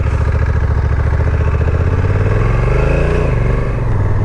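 Honda motorcycle, an NC750X or NT1100 with DCT, pulling away and accelerating, a loud, close engine drone rising in pitch through the gears, steady throughout with no talk.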